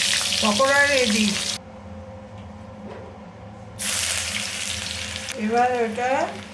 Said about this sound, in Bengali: পকোড়াটা ভাজছি